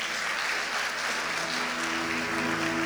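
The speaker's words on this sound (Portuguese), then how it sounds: "Vamos aplaudir nosso Deus," Church congregation applauding during a service, a dense steady wash of many hands clapping with a held tone faintly under it.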